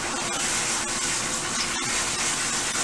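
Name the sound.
rinsing shampooed hair with water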